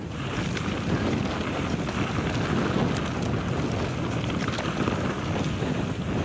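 Strong wind buffets the microphone on a mountain bike descent in Utah in a constant, loud roar of gusty noise, with no voices.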